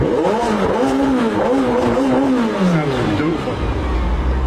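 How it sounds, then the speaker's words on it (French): A twin-turbo McLaren 720S engine revs hard in neutral, its pitch rising and falling in loud, throaty sweeps before dropping to a low rumble. "c'est impressionnant comment la caisse elle hurle"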